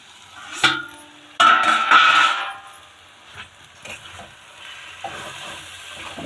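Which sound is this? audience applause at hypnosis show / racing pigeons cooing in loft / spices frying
spices frying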